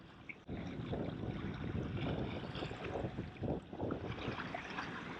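Newport NK180 electric motor pushing a Hobie Outback kayak at about 75% power on a windy, rough day; a steady, close rush of wind and choppy water runs continuously, with no talking.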